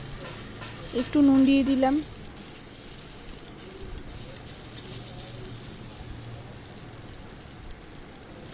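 Onion, dried red chili and five-spice seeds frying in oil in a wok, a soft steady sizzle with stirring running the whole time, under a brief spoken remark about adding salt.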